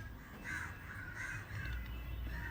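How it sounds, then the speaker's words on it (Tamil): Crows caw on a rooftop terrace, repeated harsh calls in an irregular sequence, moderately distant over a low steady background rumble. "கா கா கா மாடியில் வந்துட்டு போறாங்க"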